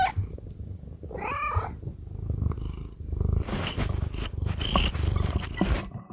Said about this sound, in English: we've got to hear one of his many kitties